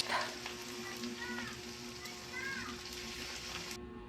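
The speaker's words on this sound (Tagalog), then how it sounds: "So fry lang natin lahat." Pork ilugon fries in oil with a steady, soft sizzling hiss that continues throughout, and faint muffled voices can be heard in the background.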